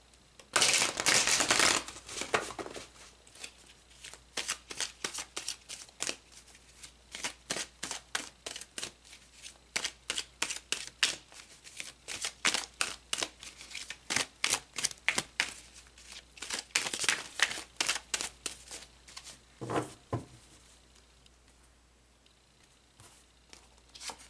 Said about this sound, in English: So let's pull some tarot and go deeper.